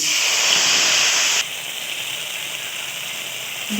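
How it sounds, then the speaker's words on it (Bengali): Spice paste mixed with water drops into hot oil in a Bengali home kitchen, a loud steady sizzle that falls abruptly to a quieter hiss partway through and keeps hissing to the end. "এবার আমি এই তেলটার মধ্যে এই পেস্টটা দিয়ে"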